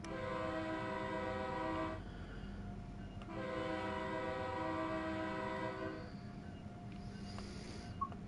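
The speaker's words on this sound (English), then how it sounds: "The horn inside sounds better than outside." An Amtrak Acela Express horn in the Train Sim World 3 simulator, heard from inside the cab, sounds two long sustained chord blasts over a constant rolling engine and track rumble.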